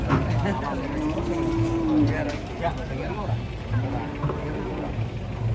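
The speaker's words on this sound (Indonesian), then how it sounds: "Tuh, ternyata ini sapi lucu." Cattle being unloaded from a truck give drawn-out moos, one longer call near the start and shorter ones later, amid a busy livestock-market din with people talking throughout.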